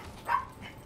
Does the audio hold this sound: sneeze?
no